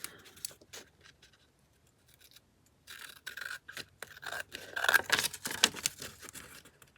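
A scraper scrapes glued paper on a craft pocket with short, scratchy rasping strokes, irregular and close, getting louder and more frequent toward the end.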